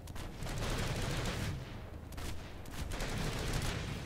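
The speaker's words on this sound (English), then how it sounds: "I'm going to dump about 10 bullets here and not counter the recoil" Gun firing bursts in the video game Planetside 2, rapid automatic shots in two sustained volleys with a brief lull between them, steady and fairly loud.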